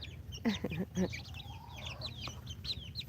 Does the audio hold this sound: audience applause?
no